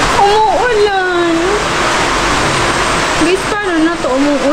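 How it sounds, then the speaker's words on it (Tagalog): Heavy rain pours outdoors as a loud, steady wash of hiss close by, while people talk over the downpour. "Lakas pati ng ulan"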